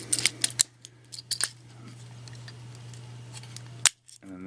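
Hard plastic parts of a Transformers Generations Voyager Blitzwing toy click and snap as they are folded, with a cluster of sharp ticks early and another single click later, close up over a steady low hum.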